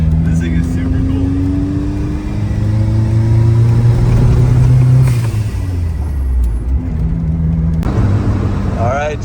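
A car engine idles and revs in a loud, low rumble that swells around the middle and then settles, running steadily under nearby talk.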